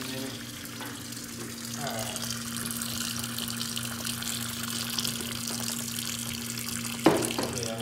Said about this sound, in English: then we'll run some more water through there